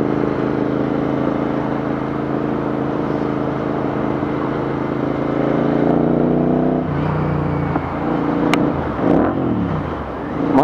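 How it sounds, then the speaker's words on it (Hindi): A Royal Enfield Interceptor 650 twin-cylinder motorcycle fitted with an aftermarket Red Rooster exhaust idles with a loud, steady rumble close by, then blips the throttle near the end with short revs and pops. "एंड इसमें रेड रूस्टर लगा है. और क्या मतलब इसका रंबल जो है ना बहुत अच्छा है."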